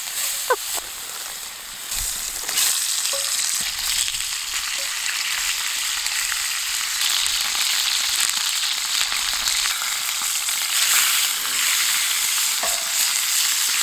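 Mushrooms and onions sauté in a pan on a camp stove, stirred with a stick instead of a spatula: a steady, close frying sizzle runs throughout with occasional scraping and clinks, and no voices.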